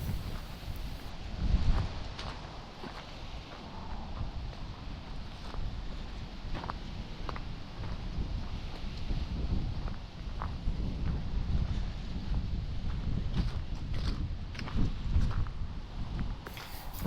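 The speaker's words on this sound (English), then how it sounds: "the temperature of this wind is pretty moderate, and it appears to be coming from the southwest" Moderate southwest wind blowing across Sardis Lake in winter, a steady broadband rush with low rumbling buffets against the microphone throughout, no voices.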